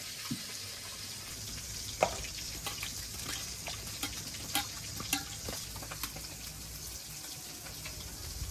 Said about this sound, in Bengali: বাকি মাছগুলো তো ভাজতে দিয়ে দিয়েছি